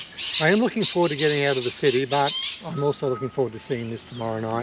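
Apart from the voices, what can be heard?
parrots, rosellas and lorikeets squawking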